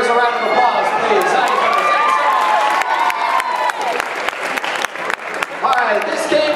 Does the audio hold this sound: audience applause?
yes